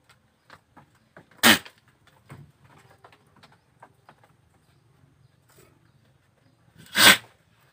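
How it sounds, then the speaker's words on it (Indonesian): A goat with a cold sneezes twice, each a sharp, loud, close snort-like burst about five seconds apart, with soft shuffling and small animal noises between them. "Ini nanti kambing kita akan bersin atau gebres, jadi ingusnya akan keluar."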